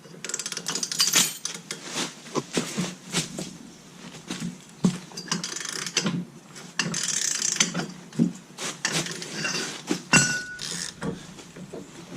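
A ratchet works on a wheel hub bolt of a Dodge Challenger or Charger, rapid clicking pawl bursts coming in uneven spurts with metallic clinks between them, close and distinct, with no talking.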